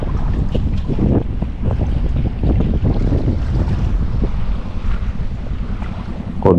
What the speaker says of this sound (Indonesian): Kondisi ombak sama anginnya cukup kenceng hari ini.